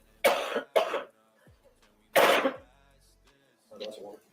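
A few harsh, close coughs come in quick bursts, two together and then another, followed by a softer throat-clearing sound.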